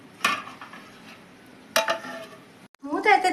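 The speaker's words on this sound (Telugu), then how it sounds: "మూత అయితే తీస్తున్నానండి నేను." A cooking pot's lid is lifted off over a simmering Telugu tomato-and-egg curry with drumsticks, giving two separate clinking metal knocks and a brief rattle, with soft kitchen sounds between them and a voice near the end.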